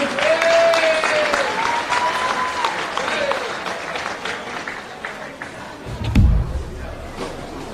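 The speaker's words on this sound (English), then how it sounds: "A round of applause for Terry." A crowd applauds at a men's Premier League football awards presentation, with steady clapping and cheering that gradually thins out. A heavy thump lands near the end.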